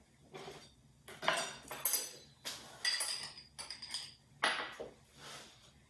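A knife saws through a loaf of basic homemade white bread in several short strokes, with faint scraping and clinks against a board, close by and quiet.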